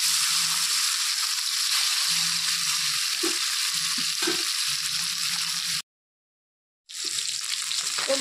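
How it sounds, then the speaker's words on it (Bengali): Fish frying in hot oil, a dense steady sizzle with light crackling and a few soft clinks of a utensil, broken by one brief silent gap before the sizzling resumes. "তেলটা গরম হয়ে গেছে, এখন মাছটা তেলের মধ্যে দিয়ে দিচ্ছি।"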